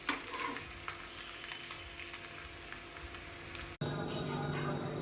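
A layered lachha paratha sizzles in a little ghee on a hot tawa, a steady close frying hiss throughout with a brief break near the end before the sizzle resumes.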